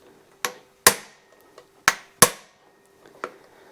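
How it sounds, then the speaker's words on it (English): Sharp, ringing hammer blows strike a hand impact driver loosening Phillips head screws on a Suzuki DRZ400 motorcycle, five or six distinct metallic knocks at irregular intervals, close and loud in a quiet space. "have one of these impact drivers, I suggest you get one because, man, they've gotten me out of trouble"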